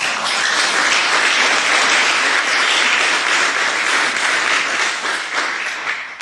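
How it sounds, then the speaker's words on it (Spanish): A church congregation applauds during a sermon, dense and loud clapping that is sustained throughout and fades slightly at the end. "Denle palmas al Señor."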